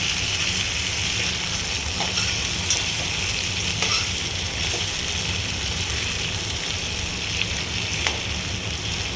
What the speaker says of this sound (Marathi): वांगी परतून घेऊयात म्हणजे वांगी खाली चिकणार नाही